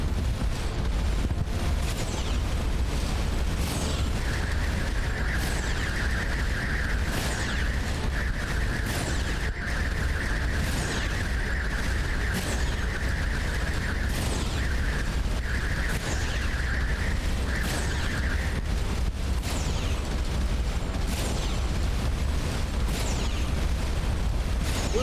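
Spaceship guns fire in the space game Starcom: Unknown Space, a steady sustained tone running for several seconds over dense continuous rumbling and repeated bursts of explosions, with no talking.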